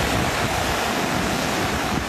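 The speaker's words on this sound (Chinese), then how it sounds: "黄水从四面八方宣泄而来" Muddy floodwater from the Bazhang River pours over its banks in Chiayi after record typhoon rainfall, a steady, loud, broadband roar of rushing water with no pauses, close and continuous throughout.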